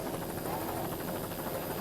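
Helicopter flying over a powerboat race, a steady close rotor and engine drone with a rhythmic beating throughout, no talking.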